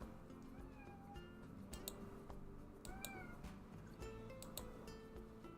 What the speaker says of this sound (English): because he is a very loud kitty